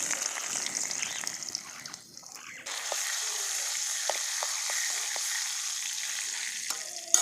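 Garlic frying in hot oil in a kadhai after mustard seeds have spluttered, for a village-style garlic spinach dish: a steady, close hiss with small pops and crackles, quieter at first, then louder and constant, with no talk over it.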